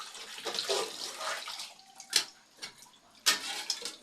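Tap water runs over a pot lid at a kitchen sink, a steady close splashing rush with a couple of sharp clinks of the lid being handled.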